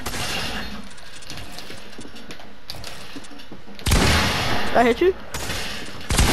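Gunfire from a shotgun in a shooter video game, a dense burst of sharp reports with a louder stretch near the end, heard under a speaking voice.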